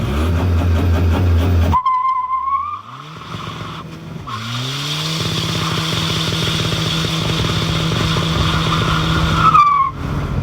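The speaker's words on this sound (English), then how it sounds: "GTI wheels with Falcon tires that love to do big," Tyres on a big-turbo VW Polo with GTI wheels and Falcon tyres squeal loudly in a long sustained skid, layered over a rising engine roar and a straight-piped exhaust that keeps droning throughout.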